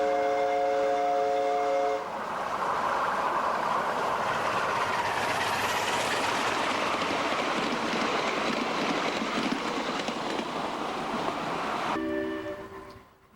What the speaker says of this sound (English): locomotive has just departed Pine Grove and is now starting downgrade towards the S-curve